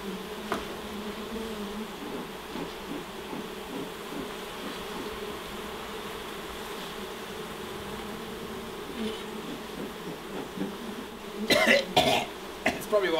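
Wild honey bees swarming around a hive built inside a kitchen cupboard make a steady, dense buzz throughout, with some brief scraping and handling noises near the end.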